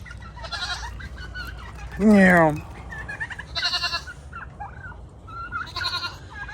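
A goat lets out one loud, wavering bleat up close, with chirpy bird or hen calls and a person talking around it.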